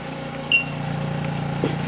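A Brewer Science CEE 100 spin coater whirs steadily as it ramps up, a close, even mechanical hum with a brief higher whine near the start.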